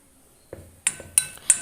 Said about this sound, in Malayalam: അതൊന്ന് മിക്സ് ചെയ്തെടുക്കാം